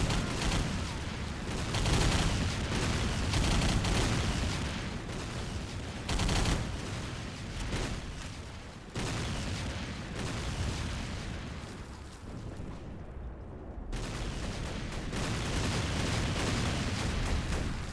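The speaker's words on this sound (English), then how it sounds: "you'll have to take out a certain number of enemies with this machine gun" A machine gun fires at enemies in a video game, dense, loud continuous bursts and explosions pounding throughout with only brief breaks.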